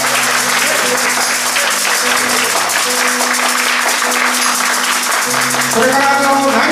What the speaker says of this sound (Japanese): 大きな拍手を